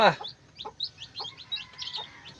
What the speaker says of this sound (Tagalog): So heto yung natitira niyang sisiw, 4 na lang.